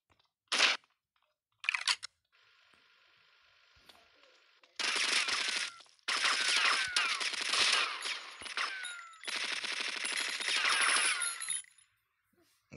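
Gunfire in GTA Vice City during a sniper shootout: short bursts of shots, then long dense stretches of rapid, crackling automatic fire broken by brief pauses, loud and close.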